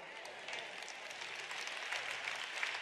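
Congregation at a church sermon clapping, a faint, distant wash of steady applause with no clear individual claps standing out.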